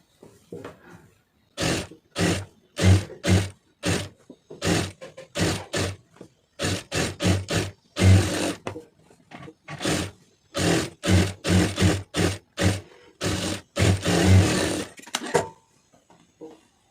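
Sewing machine stitching a blouse, running in repeated short bursts of rapid mechanical whirring separated by brief pauses, loud and close.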